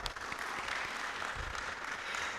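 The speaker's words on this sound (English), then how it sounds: "A round of applause for that, please" Applause from a conference audience at an investor summit during National Science Week in Uganda, a steady, even wash of clapping heard from a distance.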